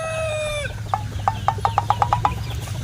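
A rooster crows, followed by a run of about eight rhythmic, evenly spaced chicken clucks, close by over a low steady background hum.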